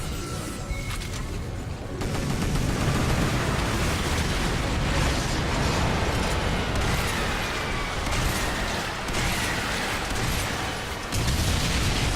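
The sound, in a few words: explosions of enemies in the video game Earth Defense Force 4.1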